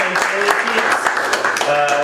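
Applause for a guest at a lab gathering, a dense patter of clapping heard close with voices talking over it throughout.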